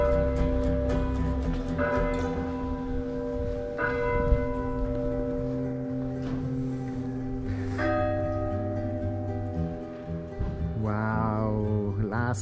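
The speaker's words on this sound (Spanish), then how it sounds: "las campanas que nos gustan cuando estamos visitando los burgos antiguos de Italia" Church bells ring loudly and continuously in Salemi, Sicily, several bells overlapping in a rich sustained peal with strong tonal harmonics throughout.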